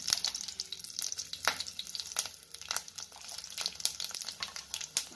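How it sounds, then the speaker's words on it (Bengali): Oil sizzles and spatters steadily as panch phoron spices and green chili splutter in a hot pan, with sharp crackling pops scattered throughout and no voices. "ফোড়নটা ভালো করে ফুটে গেলে"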